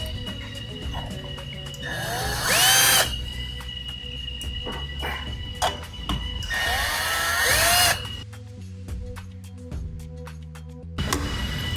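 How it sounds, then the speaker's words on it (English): A power drill drives screws into a Helios LED driver in short, loud whirring bursts separated by pauses, set against a steady background hum, with faint clicks between runs and no voices. "Make sure you get these screws all started before you tighten any of them down."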